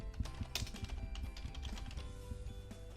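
Quick, uneven keystrokes tap on a computer keyboard while post-it note text is entered, close and faint, with no voices.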